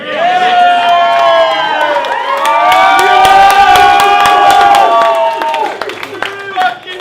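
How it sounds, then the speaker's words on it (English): A rap battle crowd for Smegz vs Boss Baker roars with cheers, whoops and shouts, loud and sustained for about six seconds before thinning out near the end. "Make some noise for Smegz, ladies and gentlemen."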